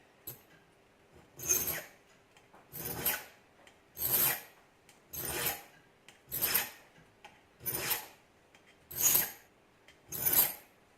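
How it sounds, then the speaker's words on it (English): A flat file rasps across a small metal lock pick rake in about nine even, loud strokes, each a harsh scraping burst separated by brief pauses, with no speech. "And use the flat file."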